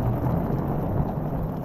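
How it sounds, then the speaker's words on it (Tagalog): A dense, steady roar of heavy rain pouring down without a break, with no voices. "Lakas na ng ulan."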